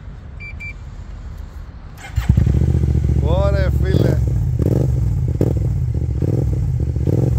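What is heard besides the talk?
Kymco AK550 scooter engine revving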